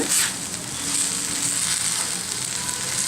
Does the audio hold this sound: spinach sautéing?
yes